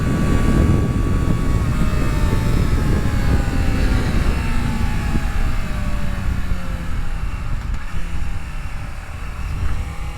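A Honda CBR 600 motorcycle engine is ridden through downshifts and upshifts, its whine sliding down in pitch under loud, constant wind rush.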